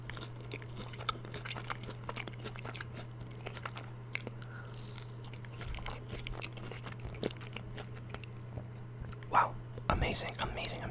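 Homemade french fries are bitten and chewed close to the microphone in an ASMR mukbang, with sharp crunchy bites and wet chewing over a steady low hum, and soft whispered talk between mouthfuls.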